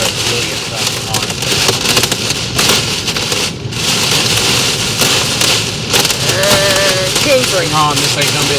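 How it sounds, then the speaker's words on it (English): Hail pounds a car roof and windshield during a severe Nebraska derecho storm, a loud dense continuous rattle filling the whole stretch, with faint voices and a brief squealing tone near the end. "Getting home just in time that hail starts really getting fucking hard."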